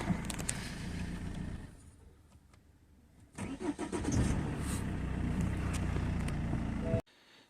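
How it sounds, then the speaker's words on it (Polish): A car engine cranks and catches after repair work, faint at first, then roars into a loud steady run before cutting off abruptly near the end. "Samochód odpala."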